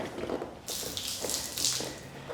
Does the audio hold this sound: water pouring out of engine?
yes